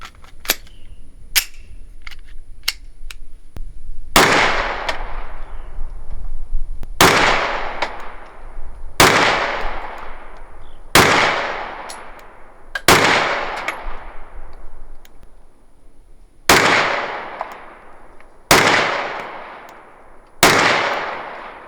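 Smith & Wesson M&P 9 2.0 Performance Center Competitor pistol fired at a range: sharp, loud shots with long decaying echoes, a few faint pops early then about nine spaced reports at irregular intervals of one to two seconds.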